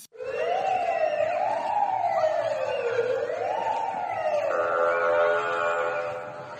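A police siren wails up and down in sweeping cycles, then shifts to a steady tone, loud and continuous with no talking.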